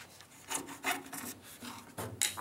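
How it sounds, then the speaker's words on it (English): Half-inch PVC tube being cut by hand, with a raspy, rubbing back-and-forth sawing stroke repeated in short bursts, close and moderately quiet with no talking. "take a piece of PVC tube, 1/2 inch, and just measure out 8 inches and cut it off."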